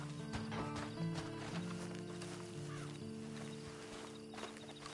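Horse hooves clip-clop steadily in a Red Dead Redemption 2 Online scene, layered over a constant musical drone and ambient noise, with a faint whinny partway through.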